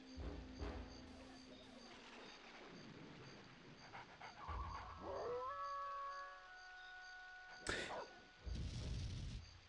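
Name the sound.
Lupus the dog howling in video game Jet Force Gemini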